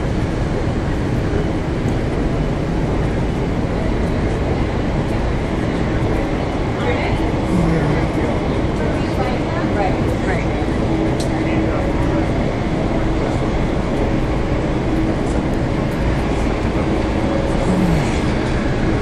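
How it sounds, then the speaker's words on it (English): Tram pulling into a stop in Monte Carlo, a steady broadband rail rumble with faint wheel and track noise building over about nineteen seconds, with occasional voices in the background. "And then you just wait for the tram."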